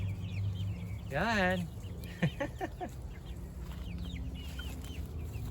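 Backyard chickens cluck and make a brief drawn-out squawk near a chicken garden food forest, soft calls scattered over a low outdoor hum, with someone speaking briefly.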